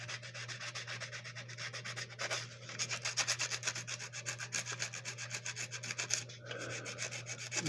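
Fine-grit sandpaper, up to about 1000 grit, rubs over the body of a Marx M10005 passenger train car in quick, steady back-and-forth strokes, soft and close, with no voices.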